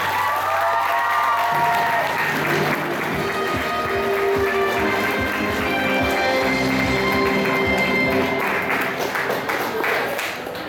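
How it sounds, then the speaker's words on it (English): A convention crowd at an anime-style Who Wants to be a Millionaire game show applauds a contestant, with sustained clapping, some cheering and voices mixed in, steady and loud for the whole stretch. "let's give him a round of applause, guys"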